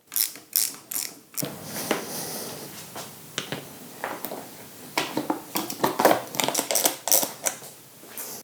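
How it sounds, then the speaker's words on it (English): A ratchet tightens bolts on a KX65 supermoto fork brace, rapid close clicking in repeated bursts with brief pauses between strokes. "we tighten up the bolts along the forks"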